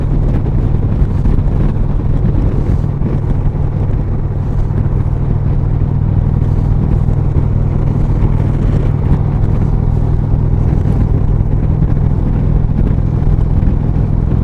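A 2020 Indian Chief Vintage motorcycle's engine drones steadily throughout a test ride, its low hum heavily mixed with constant loud wind buffeting the microphone.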